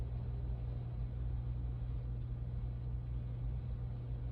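Steady, continuous rumble of traffic on a busy road outside a window, a constant low wash of passing cars with no distinct individual vehicles and no voices.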